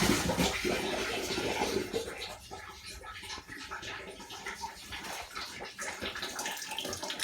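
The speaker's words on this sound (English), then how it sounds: "now you just have a little trickle. That's the cold" Cold water trickles and splashes from a shower valve with the hot side shut off, a steady close wash of running water with no talk.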